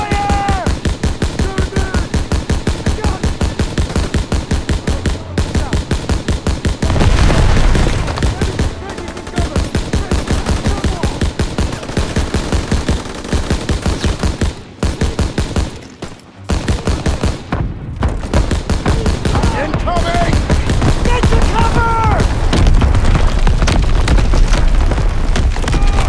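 Sustained gunfire in a World War II battle from Call of Duty: WWII, dense rapid bursts and machine-gun rattle running almost continuously, loud and close, with booms and brief lulls and shouted voices mixed in.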